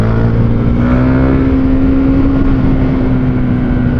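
A KTM Duke 390 motorcycle engine held near its rev limiter, a loud, steady, close buzzing drone with a constant high-pitched tone and no talking.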